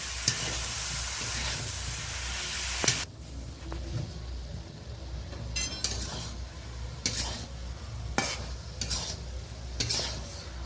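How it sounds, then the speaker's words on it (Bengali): Prawns with potato and eggplant sizzle and fry in a pan, a steady loud hiss at first, then quieter frying punctuated by several sharp clinks and scrapes of a spatula stirring against the pan. "চিংড়ি মাছের সাথে আলু বেগুনটা বেশ ভালো করে কষিয়ে নিচ্ছি।"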